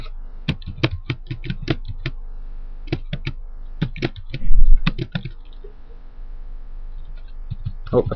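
Typing on a computer keyboard: rapid clusters of close, crisp key clicks in bursts with short pauses, one louder thump midway, no talking.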